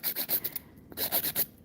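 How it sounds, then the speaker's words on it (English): Light strokes of a nail file rasp across the surface of acrylic nails in a quick series of about eight soft passes with a short pause midway, close and quiet, with no talking. "I'm just lightly filing the surface."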